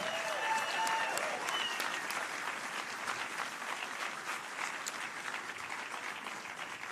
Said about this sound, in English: let's get another huge round of applause for all the finalists and the winners at tonight's Emerald